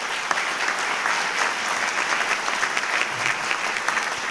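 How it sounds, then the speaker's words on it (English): Audience applause at a state governor's awards ceremony: dense, sustained clapping from a large crowd, steady and fairly close throughout. "let's give them all a round of applause."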